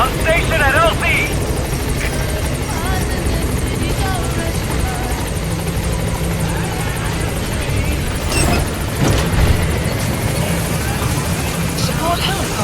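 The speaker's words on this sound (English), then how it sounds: "Support helicopter has arrived." The Metal Gear Solid V support helicopter arrives with a loud, continuous rotor drone and engine roar that fills the whole scene, while a voice speaks over it.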